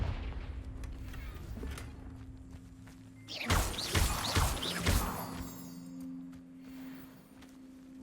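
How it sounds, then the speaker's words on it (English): Confringo explosive spell in the Hogwarts Legacy video game: after a quiet humming stretch, a burst of sharp cracking blasts and rumbling impacts erupts for about two seconds, then fades back to a low steady hum. "Confringo!"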